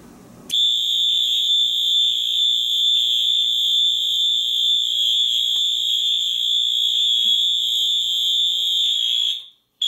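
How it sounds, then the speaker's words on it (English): An addressable fire alarm system, set off by a smoke detector, blares a loud, continuous high-pitched electronic tone for about nine seconds before cutting off abruptly. "today we're going to be activating the system with the smoke detector"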